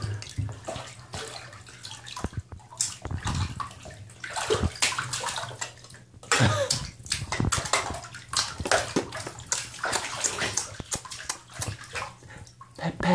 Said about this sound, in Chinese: 最喜欢洗澡了。